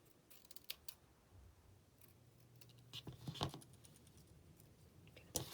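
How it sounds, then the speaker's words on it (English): Scissors snipping through Halloween tabbed index cards, a few quiet scattered cuts and clicks at close range with a soft low hum beneath and a sharper snip near the end, with no talk. "Here, we'll cut this side off."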